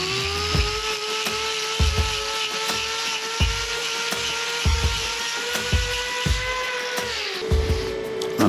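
High-pitched whine of a powered grinding tool trimming loose horn on a cow's hoof, running steadily with rhythmic repeated thuds and scraping pulses as it bites into the hoof wall, close and loud.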